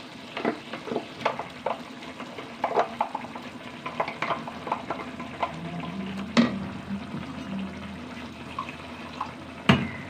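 Ground spice paste goes into a pan of frying tomatoes, giving a soft sizzle broken by wet stirring scrapes and a few sharp clanks of the spoon against the pan, close and moderately quiet, with no talking.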